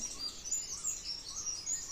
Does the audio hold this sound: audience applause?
no